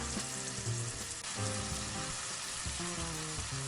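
Kimchi sprinkled with half a spoon of sugar frying in a pan for tofu kimchi makes a loud, steady sizzle with faint crackles, heard close up over a brief stretch with no speech.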